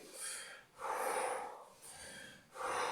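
Several deep, noisy breaths drawn in one after another, fairly close, with short pauses between them and no talking, as breathing for focus before a shot.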